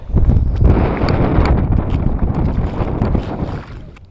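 Wind buffeting across a lake during bass fishing from a boat, a loud continuous rumbling roar with gusty surges and small knocks, no voices.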